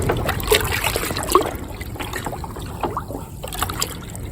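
Rinseless wash solution swirled into water in a bucket with a wash mitt, soft sloshing and trickling close by at steady moderate loudness, alone without talk.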